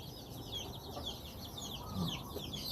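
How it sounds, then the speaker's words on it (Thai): Chickens on a Thai fighting-cock breeding farm: repeated clucks and rooster calls, moderately close, over a constant outdoor background. "เจ้าทันใจเป็นไก่ที่ แข้งหน้าน้อยนะครับ"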